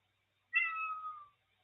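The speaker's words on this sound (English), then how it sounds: "it's a cat" A cat gives a single clear meow lasting under a second, close and fairly loud against near silence.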